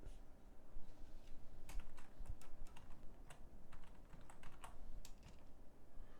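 Keys on a computer keyboard are pressed in quick, irregular bursts, including an F2 key press during accounting data entry, steady clicking close by with no talking.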